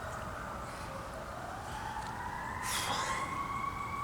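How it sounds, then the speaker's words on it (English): Distant fire engine and ambulance sirens wail steadily, their pitch slowly rising, faint over low traffic rumble. "the fire engines and the ambulance."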